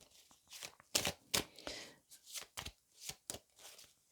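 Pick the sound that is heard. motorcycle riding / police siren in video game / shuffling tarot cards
shuffling tarot cards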